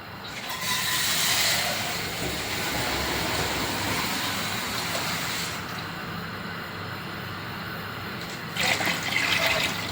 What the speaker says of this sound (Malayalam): അപ്പോൾ നമ്മുടെ വെള്ളമൊക്കെ നല്ല തിളച്ച് മറിയുന്നുണ്ട്.